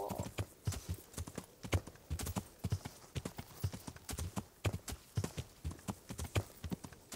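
Steady clip-clop of horse hooves trotting at an even rhythm in the video game Kingdom Come: Deliverance, close and clear, with no voices over it.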